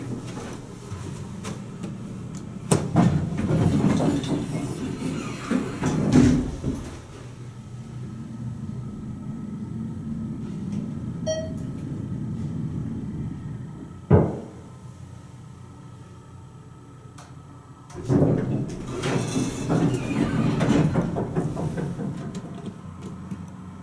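A hydraulic elevator, originally Westinghouse and later modified by ThyssenKrupp, runs its motor with a steady low rumble and hum. Clunks and surges mark the start and stop of each run, with a sharp mechanical knock partway through.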